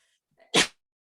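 A single sharp human sneeze in a quiet classroom, preceded by a faint intake of breath, loud and close, then silence.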